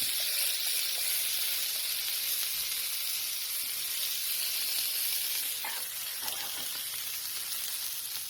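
Smash burger meat sizzling on a hot griddle, a steady loud hiss and crackle of frying fat that continues without pause.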